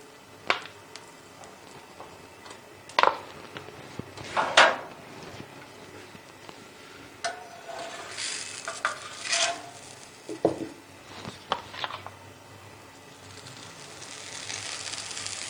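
Makai roti made from maize flour cooks on a stove while desi ghee is spread over it, giving scattered clinks, scrapes and rubbing sounds of utensils against the pan that are quiet between louder bursts, with no talking.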